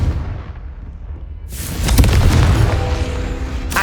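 Confringo fire spell in the video game Hogwarts Legacy, a low rumbling magical whoosh building into a loud booming explosion with a crackling roaring tail, heard alone.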